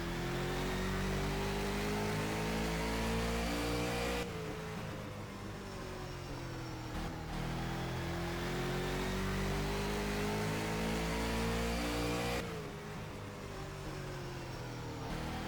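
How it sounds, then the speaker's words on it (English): Super late model stock car engine on a qualifying lap at Madison, a loud onboard drone that rises steadily down the straights and drops abruptly twice as the driver lifts for the turns, with no voices. "Let's ride along here with Travis as Mason's qualifying lap"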